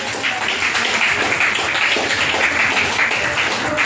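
A congregation claps and applauds steadily and loudly throughout a church service, a dense, continuous wash of clapping with no gaps.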